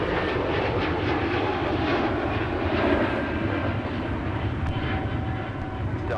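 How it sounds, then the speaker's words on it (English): An Airbus A220 jet roars continuously as it departs from Minneapolis–Saint Paul airport on a windy day, a broad steady engine rumble heard from some distance. "That's departing A220, aka the whale bus"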